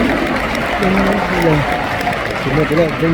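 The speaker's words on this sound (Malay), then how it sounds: "Berikan tepukan kepada business partner saya." Steady audience applause fills a hall at an Amway KL & Selangor recognition ceremony, continuing throughout with voices and tonal sounds over the clapping.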